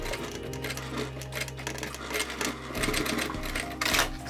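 Sewing machine stitching extra wide binding over a strap connector on a crossbody bag, a close steady mechanical whir of rapid needle strokes that shifts in pitch partway through.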